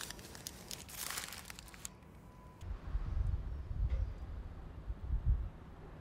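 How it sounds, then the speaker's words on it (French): Newspaper crinkles and rustles as an avocado is wrapped in it, with close, crisp paper crackling for the first couple of seconds, then softer handling thumps and low rustles as the bundle is folded and set down. "Enveloppez l'avocat avec du papier journal et laissez-le à température ambiante."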